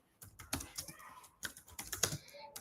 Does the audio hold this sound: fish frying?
no